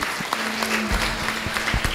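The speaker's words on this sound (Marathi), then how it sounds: "एकदा जोरदार टाळ्या सरांसाठी." Audience clapping at a Solapur gathering honouring a teacher, a short burst of moderately loud applause with sharp individual claps standing out over a steady patter and a faint hum.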